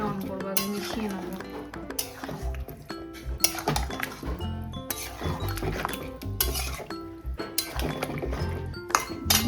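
Curd and ghee are stirred into biryani in a pot, with a spoon clinking and scraping against the metal in dense, repeated strokes throughout, alongside a loud, continuous background.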